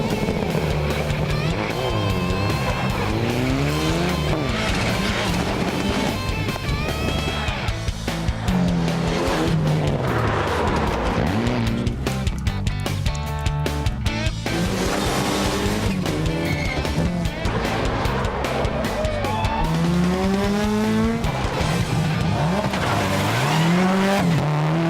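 Rally cars on a final tarmac sprint stage at a gravel-and-tarmac rally in Whitianga, Coromandel, squeal their tyres in long wavering screeches over loud, continuous engine roar, the squeals rising and falling throughout.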